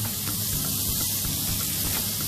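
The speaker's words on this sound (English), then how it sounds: "And you can hear it sizzling away there." Beef with spices sizzles in a hot pan, making a steady, close, continuous hiss with faint crackles and no talking over it.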